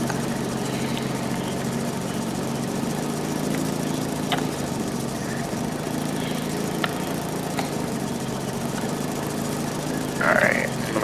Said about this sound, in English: Alright, I'm gonna mow, so I need to get all this cut.